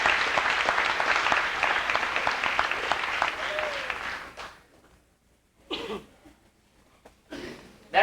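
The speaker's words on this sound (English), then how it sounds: "Let's give them one last round of applause." Crowd clapping at a football and soccer banquet, loud and sustained for about four seconds before fading out, followed by near-silence broken by a couple of coughs and throat-clearing sounds.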